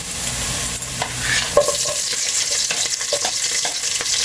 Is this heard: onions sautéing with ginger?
yes